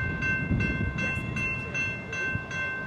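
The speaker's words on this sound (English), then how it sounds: "but then were held up by a long train." A long train rolls past at a crossing, giving a steady rumble of wagons and a rhythmic pulsing clatter at moderate loudness, with a faint tonal whine held throughout.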